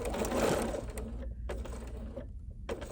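Sewing machine stitching a small, roughly inch-square box on fabric for a wristlet pincushion, running in short close bursts with brief pauses between them.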